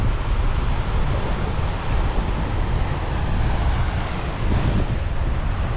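Sea waves wash onto a small beach near a river mouth at Salindo Port, a steady broad roar of surf mixed with wind noise buffeting the microphone throughout, with no voices.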